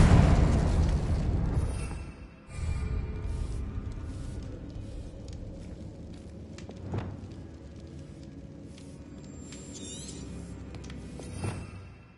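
A Confringo blasting spell explodes in the Hogwarts Legacy video game: a loud, deep boom that rumbles and fades over a few seconds, then a couple of softer pops and crackles over faint ambient noise.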